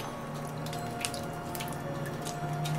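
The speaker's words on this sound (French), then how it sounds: "L'eau qui suinte de la roche." Water seeping and dripping from the rock at a troglodyte fortress well, a faint steady trickle with a few soft drips, quiet and alone.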